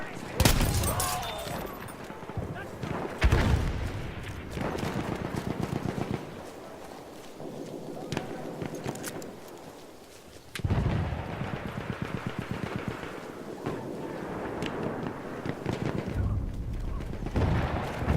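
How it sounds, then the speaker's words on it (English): Battlefield 1 multiplayer battle with bursts of machine gun fire and heavy gunfire volleys, loud and close, interspersed with booms and explosions, with voices calling out over the combat. "Enemy machine gun!"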